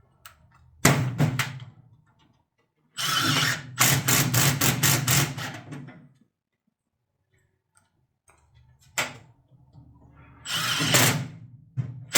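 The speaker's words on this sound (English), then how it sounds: "So do it until it stops ratcheting." Ratchet tool cinching a sheet-metal S-cleat joint during ductwork fabrication for a ductless mini split, heard as bursts of rapid mechanical clicking, one short, one long run of clicks, then another after a pause, close and fairly loud.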